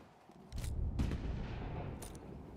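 Gunfire in a video game, a few muffled, distant booming shots over a low rumbling background, faint, with no talking.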